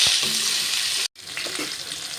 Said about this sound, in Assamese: অলপ সময় ভাজি লওঁ মই মাংসটো।